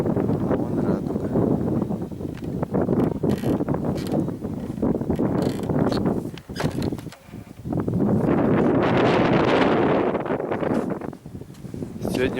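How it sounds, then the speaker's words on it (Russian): Strong spring wind gusts roaring and buffeting the microphone outdoors, loud and continuous with brief lulls, rising into a heavy gust near the end. "Сегодня очень сильный ветер."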